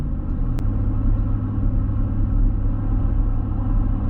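A Chevrolet Silverado 5.3 pickup engine holds steady at half throttle, a constant low rumbling drone heard from close by with no speech over it.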